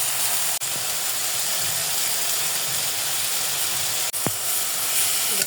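Fish frying in a hot pan for a river tatkini and tengra fish curry, a steady loud broadband sizzle and hiss running throughout with a couple of brief clinks.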